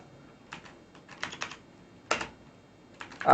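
Code is typed on a computer keyboard in short clusters of crisp key clicks with pauses between, heard close and without talk.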